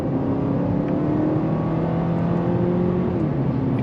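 Mercedes-Benz CLA 250 4MATIC engine droning steadily close up while driving twisty roads, its tone stepping up and then dropping near the end as the transmission shifts gear.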